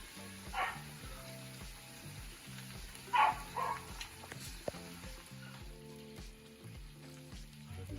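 Natto fritters frying in a pan, a soft steady sizzle running throughout, with a few brief clinks and thumps and a dog barking faintly in the background.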